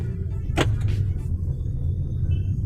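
Kia Seltos accelerating from inside the cabin, a steady low engine and road rumble holding throughout, with a brief broadband whoosh near the start and a faint high whine later.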